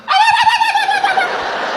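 A man imitates a turkey with his voice: a loud, close, warbling gobble-like call with a rapid throaty trill that fades out after a second and a half.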